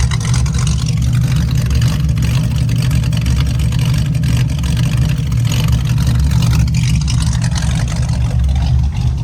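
1967 Ford Mustang engine running at a steady, loud, low rumble throughout, close by and without clear revving peaks or talk.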